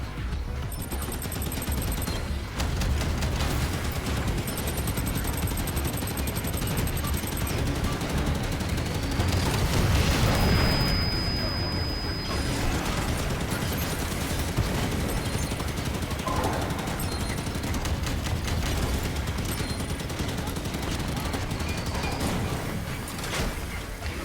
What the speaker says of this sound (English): Has he got a fuel rod cannon, or is he just repeatedly firing charged plasma shots at me?